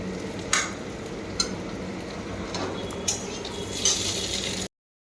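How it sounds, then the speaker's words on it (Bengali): Malabar spinach cooking with fish roe in a pan gives a steady low sizzle, with a few sharp clinks of a utensil against the pan scattered through it. "দেখেছো মাছের ডিম দিয়ে পুঁই শাক হচ্ছে।"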